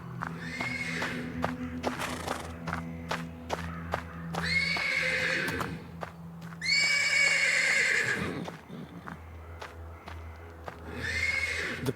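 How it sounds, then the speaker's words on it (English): A horse in a stable, from the game Black Book, neighs and whinnies insistently in several long bursts, with hoof clops and shuffling between calls over a low steady background hum. "The persistent neighing of a horse can be heard from the stables"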